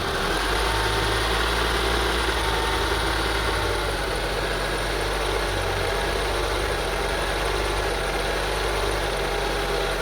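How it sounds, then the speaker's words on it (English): A Honda CR-V engine idles roughly with an idle air control valve or MAF fault, a loud, constant low drone with steady vibration filling the whole stretch, no talking. "even if you press the gas, it's really bad rough idling"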